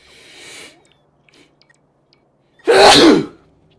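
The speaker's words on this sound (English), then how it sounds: "Oh, that's one of those sneezes that make you feel glad to be alive." A single loud, explosive sneeze close to the mic, preceded by a softer breathy intake and a brief quiet pause.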